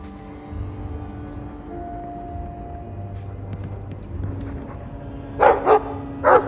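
A puppy in the video game Dragon Age 2 gives three short, sharp barks near the end, after a stretch of quiet ambient hum and soft game sounds.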